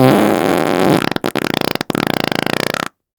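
A loud, close fart sound effect opens with a low buzzy blast, then breaks into a rapid sputtering flutter of short bursts before cutting to silence.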